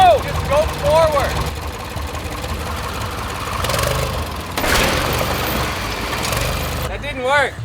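A tractor engine chugs and idles at a medium pitch with a knocking rumble, with loud squealing or whining sounds at the start and end and people talking over it.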